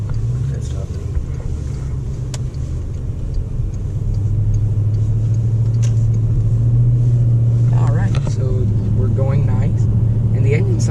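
A Bentley Continental GTC engine drones steadily while driving, its rumble rising in pitch partway through as the automatic shifts, with a person talking over it.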